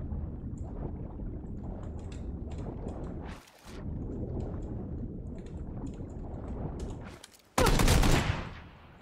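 Shotgun blasts in the battle royale game PUBG, with rapid bursts of gunfire over steady background noise, ending in one sharp, loud shot.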